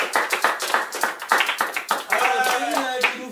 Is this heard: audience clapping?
yes